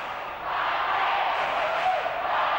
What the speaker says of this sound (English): The crowd's starting to get behind the local team.